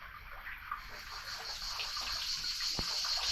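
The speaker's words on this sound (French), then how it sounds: "J'ai l'impression qu'il se noie sous la cascade." A waterfall rushes in the Montmirail canyon, a loud, steady roar that stays constant throughout.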